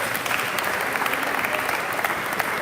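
Audience at a high school awards assembly applauds the show choir with steady, dense clapping from a large crowd, sustained throughout without a break.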